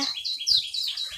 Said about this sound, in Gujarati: આપણો પોપટે બોલે છે